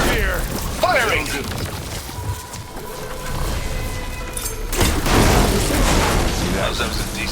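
Weapon fire and explosions in Horizon Forbidden West: dense booming blasts and crashes rumble throughout, with voices calling out over the combat noise.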